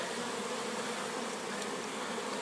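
Dense, steady buzzing of many bees at a large apiary, a continuous even drone with no pauses and no voices.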